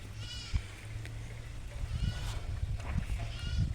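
Goats and eight-day-old kids bleat in short, repeated cries over a low background hum, close and fairly faint, with a few other noises between calls.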